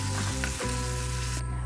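Close, steady sizzling of onion, ginger, garlic and tomato frying in a pan, with a brief clatter of stirring partway through and no voices.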